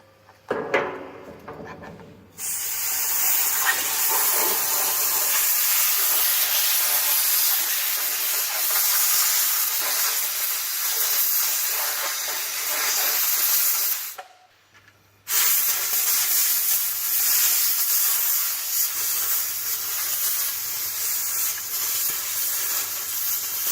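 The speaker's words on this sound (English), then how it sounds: "we can remove the remaining debris by blowing compressed air from the inside to the outside of the element" Compressed air blasting debris out of a diesel filter element on a Mecmar dryer with a Riello burner, a loud steady hiss held for long stretches with one brief pause, close up.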